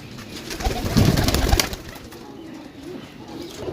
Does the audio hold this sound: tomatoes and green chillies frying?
no